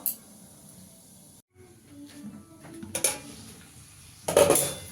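A pot lid is lifted and an ol kopi ghonto with prawns is stirred over low gas, giving sharp metallic clinks and scraping with a soft steamy hiss, then a louder clatter of utensils near the end.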